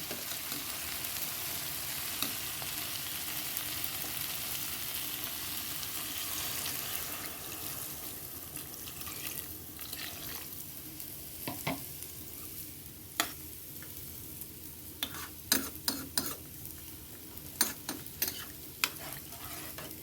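Bitter gourd frying in a pan, a continuous sizzle with stirring; later, sharp spatula taps and scrapes ring out against the pan over the steady frying hiss.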